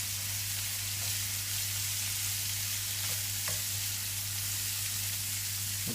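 Vegetables for spring rolls, including red onions and spring onions, stir-frying in a hot pan, a loud continuous hissing sizzle with a steady low hum and a few faint knocks.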